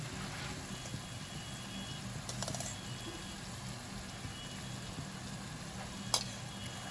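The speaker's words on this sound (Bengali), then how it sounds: "এবার ভালো করে কষিয়ে নেব।" A spice paste with yogurt is fried and stirred for dhaba-style palak paneer, a soft, steady low sizzle with faint scraping, quiet and continuous, with a few small clinks.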